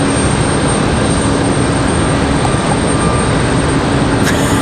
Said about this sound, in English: that should be our A220. That's what it sounds like. Idling up there